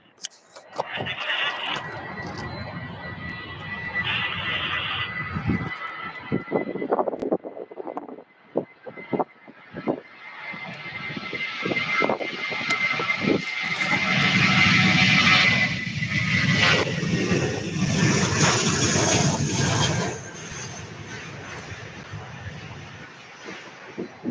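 A United Airlines jet departs Louisville Muhammad Ali International Airport for Denver, its engines building from a distant whine into a loud, broad roar that peaks and then fades, with a voice talking over the start.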